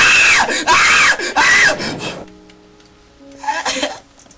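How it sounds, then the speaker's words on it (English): Minecraft player screaming while chased by creepers: a few sharp, loud, high-pitched shrieks in quick succession, then a quieter pause and one more short burst of vocal noise. "You have the girliest scream ever."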